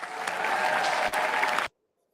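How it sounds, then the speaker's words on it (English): Audience at a live debate applauds steadily for about a second and a half, dense clapping from a large crowd that cuts off abruptly into silence. "and a round of applause, please"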